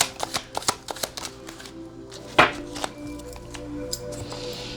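Playing cards being shuffled and drawn during a tarot reading: a rapid run of soft riffling flicks, then a sharper slap as a card lands, followed by quieter rustling, close and alone.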